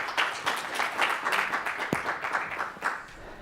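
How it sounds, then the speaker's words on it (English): An audience welcomes a speaker at a talk on crowdsourced engineering with a steady wash of applause that stays fairly even and moderately loud throughout. "So round of applause, please."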